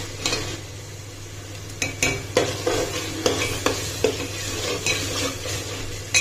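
Spices for a green chicken dish roast in a pan while a spatula scrapes and knocks against the metal in irregular strokes, over a low, steady hum and a soft sizzle.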